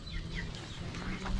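Chickens on a farm give a dense, continuous murmur of clucking and peeping, moderately close and without any talk over it.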